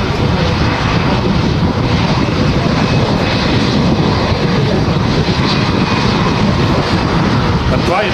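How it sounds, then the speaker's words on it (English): Steady, loud roar of Airbus A350-900 jet engines at a very windy airport as the aircraft lines up on the runway, a continuous broadband rumble with wind noise throughout. "Now lining up at the start, 2-3 right. The A350-900, an amazing aircraft."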